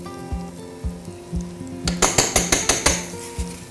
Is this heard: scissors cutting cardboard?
no